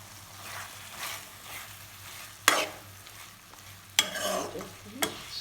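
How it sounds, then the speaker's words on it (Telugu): Tomatoes fry for tomato pachadi in a pan over a medium flame: a soft steady sizzle runs throughout, broken by a few sharp scraping stirs of the spoon. "సిమ్లో పెట్టుకొని ఫ్రై చేసుకోండి, మీడియం ఫ్లేమ్లో పెట్టండి."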